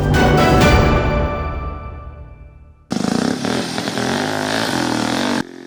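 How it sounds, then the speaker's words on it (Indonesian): An old Vespa scooter engine roars on a village road, a loud rasping drone that fades away, then a harsher, closer buzzing run that cuts off near the end. "Deru mesin Vespa tua pemecah kesunyian jalanan desa."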